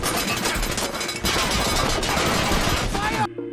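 Dense, loud gunfire from a war-movie scene with Nazi soldiers and a steel tank, a continuous roaring fusillade of overlapping shots that cuts off abruptly near the end.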